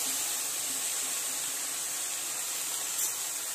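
Fenugreek leaves fry in hot ghee in a pan, giving off a steady, close sizzling hiss that stays even throughout with no voices.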